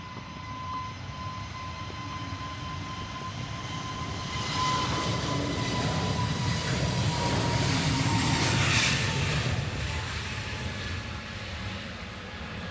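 An EasyJet jet airliner passes at Manchester Airport, a broad steady engine roar with a faint high whine that swells in the middle and stays sustained, heard from a distance with no talk.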